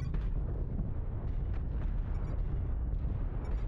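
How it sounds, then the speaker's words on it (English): Artillery strike in a MechWarrior game, a dense rumbling roar of explosions with scattered sharp bursts sustained across the whole span, moderately loud and without voices. "Artillery strike."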